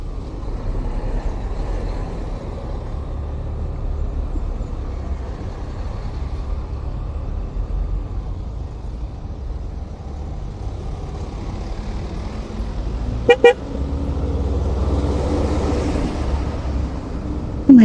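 Heavy road traffic rumbles steadily with low engine drone from cars, trucks and buses, and two short sharp horn blasts cut through near the end.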